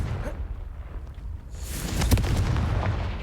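Confringo spell explosions from Hogwarts Legacy, a muffled thump followed by a louder crackling, booming blast that rumbles on to the end.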